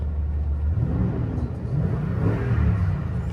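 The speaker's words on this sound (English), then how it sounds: "And I'm gonna rev this engine here for you, James." A 2019 Toyota Tundra Limited pickup's V8 engine revs and rumbles steadily for a few seconds, a deep low roar close by, with no talking.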